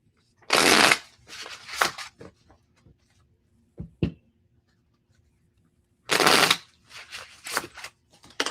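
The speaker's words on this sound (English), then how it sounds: "Is my shuffling too loud?" A deck of playing cards shuffled close by in two loud riffling bursts several seconds apart, with a few faint clicks and quiet handling sounds between them.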